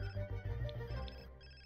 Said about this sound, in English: No, we're not answering the phone.